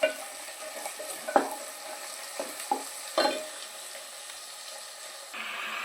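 Chicken pieces, one kilogram of them, added to a pan for Andhra-style chicken sukka curry, with soft frying sizzle and a few sharp clatters and stirring knocks, close and fairly quiet, no talk.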